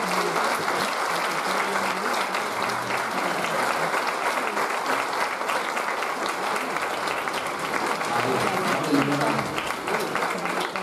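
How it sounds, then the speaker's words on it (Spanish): Strong, continuous applause from an audience at a charity gala for an Alzheimer's association, dense and sustained clapping throughout with some voices mixed in. "Damos un fuerte aplauso."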